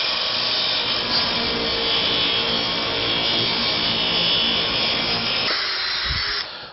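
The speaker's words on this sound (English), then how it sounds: "And now we'll cut it on the miter box saw." A miter box saw slices through a laminate countertop build-up strip in one continuous, loud, rough cut lasting several seconds before stopping abruptly.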